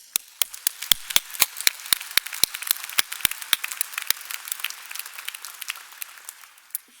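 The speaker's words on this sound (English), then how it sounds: "you all deserve a round of applause" Scattered, distinct hand claps ring out at the 2019 University at Buffalo School of Public Health and Health Professions commencement ceremony, fairly quiet and thinning to a few isolated claps toward the end.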